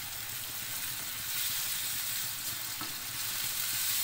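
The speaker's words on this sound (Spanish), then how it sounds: "Ahora le vamos a incorporar lo que falta, que es el tomate. Esto se va sofriendo bien." Chopped tomato sizzles steadily in a frying pan as it is sautéed into a sofrito for Cartagena-style rabbit with noodles, a continuous close, even hiss with no talking.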